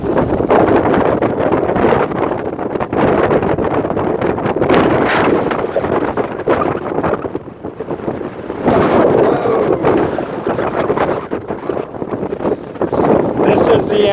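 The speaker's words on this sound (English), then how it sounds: "All this wind that y'all hear is the outer band." Strong wind from the outer band of Hurricane Delta buffets the microphone in a loud, continuous roar with gusting surges, and a voice speaks over it.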